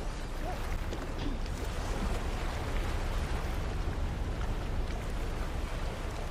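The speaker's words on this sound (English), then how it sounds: "the storm's on" Storm rain in No Man's Sky hisses as a dense, even downpour with a low rumbling bed beneath it, holding steady and fairly loud from start to finish, with no talking.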